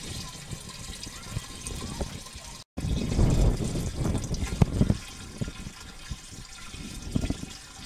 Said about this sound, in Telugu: తయారైన సొంటి పాల కషాయాన్ని 200 లీటర్ల నీటిలో కలుపుకోవాలి